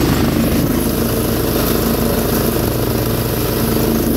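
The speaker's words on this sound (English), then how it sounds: "So let's go ahead and cut the grass." A Huskee LT3800 riding lawn tractor runs close by while mowing grass, its engine droning loud and constant with a steady throb and no pauses.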